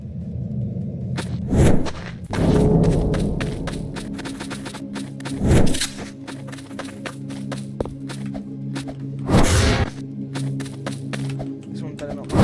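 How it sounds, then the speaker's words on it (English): Enemies banging on a door in a video game, a few heavy thuds spaced several seconds apart against a low droning background, with a voice talking over parts of it. "It's so terrifying just to hear them bang on the door"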